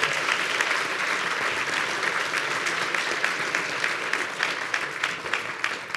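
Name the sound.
audience applause for a sales event panel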